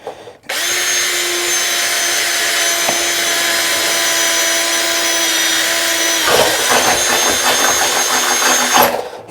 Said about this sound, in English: So I'm going to drill my hole in that side